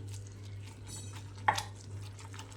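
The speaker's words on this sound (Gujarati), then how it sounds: "સરસ રીતે બેટરને મિક્સ કરી લઈએ" A spoon mixes a thick batter of rajgira and moraiya flour with buttermilk in a bowl: soft, quiet stirring over a low hum, broken by one sharp clink of utensil against the bowl, with no talk.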